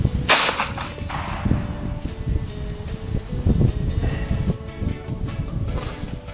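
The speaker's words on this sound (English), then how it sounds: "Now we'll get ready and shoot the full metal jacket." A .38 Special full metal jacket round fired into beech lumber outdoors, a sharp crack near the start followed by rustling and faint clatter, with no talk.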